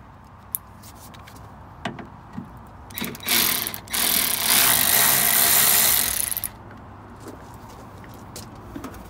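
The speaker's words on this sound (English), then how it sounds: "I'm going to use my new battery ratchet the kids got me Father's Day." A battery ratchet removes a headlight from a Ford Transit van. Several short clicks and brief bursts come first, then a loud, sustained whirring run of about three seconds, followed by more scattered clicks.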